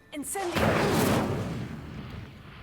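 A fire spell cast in Hogwarts Legacy bursts out as a loud whooshing blast that swells quickly and trails off over a couple of seconds, following a short spoken incantation.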